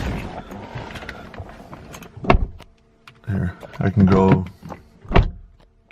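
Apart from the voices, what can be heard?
BMW E90 one-touch automatic power window going up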